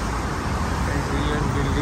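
Highway traffic rushes past beside the UN building on Manhattan's East Side in New York, a dense continuous roadway roar close by.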